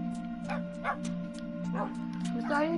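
Several short, clipped dog barks and yips from a Minecraft-style survival game, spaced irregularly over a steady droning background.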